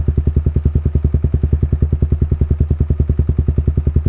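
An old Honda CB150R with a DOS full-system muffler idles in a steady, deep, even thumping pulse, loud and close with no other sounds.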